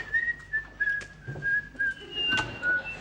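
A person whistles a wavering tune with short phrases and brief pauses, heard up close in a quiet outdoor setting with faint background noise.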